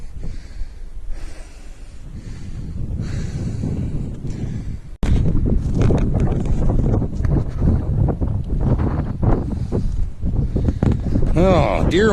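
Wind gusting through snowy bush country outdoors, a broad rushing roar that eases briefly then returns louder and more buffeting against the microphone, with heavy breathing and footsteps close by.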